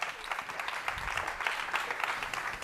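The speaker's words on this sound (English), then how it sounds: "Big round of applause for them." A conference audience gives soft, fairly distant applause for the cultivated-meat panel members, with a steady patter of clapping lasting a few seconds.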